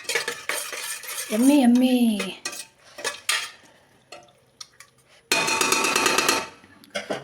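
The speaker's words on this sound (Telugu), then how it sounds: "తక్కువ చేసి ఇట్లా మంచిగా కలపాలి" Yogurt is stirred into a cooking pot on low gas. A utensil clinks and scrapes against the metal in bursts, with pauses between strokes. A voice is briefly heard partway through.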